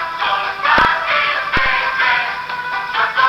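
Song played back through a camera's built-in low-quality audio recorder, giving thin, band-limited music with a couple of sharp clicks, steady and fairly loud with no talking.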